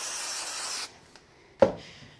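Short hiss of spray aimed at a piece of craft card to make it tacky, a single brief burst standing out after quieter rustling and handling sounds, close and fairly soft.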